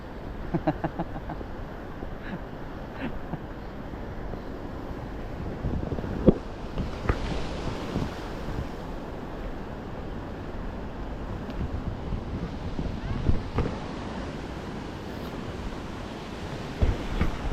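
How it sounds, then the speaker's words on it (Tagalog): A small boat pushes through big ocean waves, with steady surf wash and rumbling water, heavy wind buffeting the microphone, and occasional louder splashes and knocks. "Kakuha tayo ng konting video sa bangkang pumapasok ng malaking alon."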